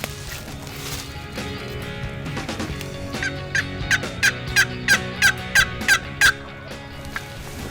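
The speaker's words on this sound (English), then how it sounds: "We heard 2 turkeys gobble back at us." A wild turkey gobbles repeatedly in a fast, evenly spaced series of sharp calls, fairly close, over a low rumbling outdoor background.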